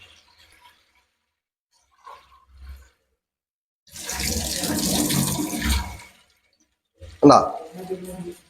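Filtered water gushes from a household tap in a steady burst of about two seconds, with faint knocks before and a short sound after.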